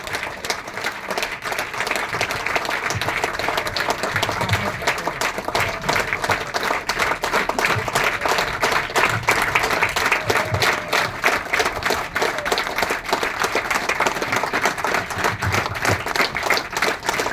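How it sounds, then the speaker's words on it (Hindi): Sustained loud applause from a large crowd, dense steady clapping that continues without a break. "तालियां जबरदस्त होनी चाहिए, जबरदस्त।"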